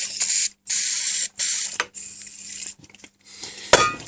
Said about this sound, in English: Let's give that a bit of contact cleaner.